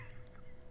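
A voice imitates a chicken with a brief, nasal squawking cluck, close and fairly loud in a podcast studio.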